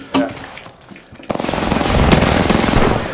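Video game gunfire: a few scattered shots, then a sustained burst of rapid automatic fire that continues densely to the end, loud and close.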